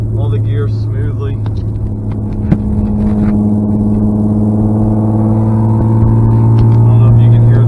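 A 1995 BMW M3 with a straight-pipe exhaust drones as a steady, loud engine hum from inside the moving car while someone talks over it.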